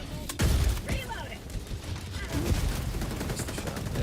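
Rapid bursts of gunfire in the video game Helldivers 2 rattle in quick volleys, with one heavy shot standing out early, as a voice speaks over the action.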